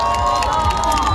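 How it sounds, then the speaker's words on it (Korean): Concert crowd cheering and shouting after a performance, a loud, dense roar of voices with whistles sustained throughout. "다시 한번 뜨거운 박수 부탁드리겠습니다"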